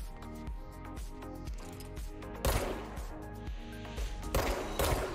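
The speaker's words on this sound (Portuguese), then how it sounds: "Quatro tirinhos." Gunfire in the video game Control: several sharp bursts crack out over steady tonal game music, the loudest shots landing in the second half.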